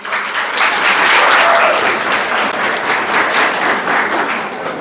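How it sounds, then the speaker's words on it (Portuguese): An audience of about 120 people at a suicide-prevention talk claps loudly and steadily, a dense sustained round of applause that swells early and carries through to the end. "Salve de palmas."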